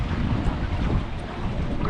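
Steady wind blows over a lake in Winter Park, Florida, buffeting the microphone as a boat with a repaired engine is maneuvered toward a dock; a continuous, loud rumbling gust fills the whole stretch with no voices.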